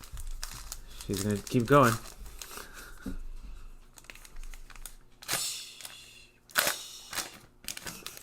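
Foil wrappers of Topps Heritage 2020 baseball card packs tear and crinkle in short bursts at close range, with people talking between the ripping sounds.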